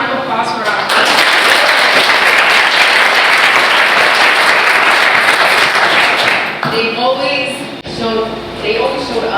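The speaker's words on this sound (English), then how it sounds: "One more round of applause for our" Loud, dense audience applause at a student pitch day event swells for several seconds, then thins out as a speaker's voice returns over the tail of the clapping.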